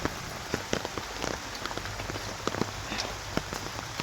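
Rain falls steadily on nearby surfaces, a dense patter of individual drops over a soft continuous wash, with no voices.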